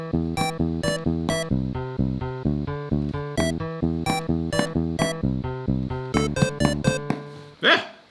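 A Mario Paint video game melody plays back as bright, evenly spaced chiptune notes in a steady bouncing rhythm, loud and close, ending with a brief noisy burst.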